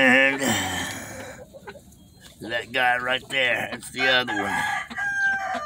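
A gamefowl rooster kept for breeding crows loudly and close by in several long, drawn-out calls mixed with clucks, while someone talks over and between them.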